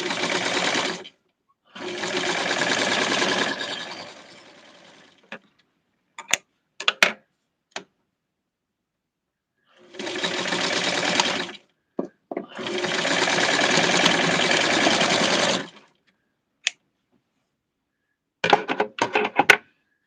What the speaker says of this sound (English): I'm going to sew and position the sides